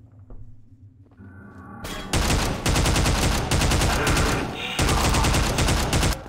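Dense gunfire in the shooter game Entropy: Zero 2, starting with a few scattered thuds before erupting into loud, continuous rapid-fire bursts with a brief dip in the middle.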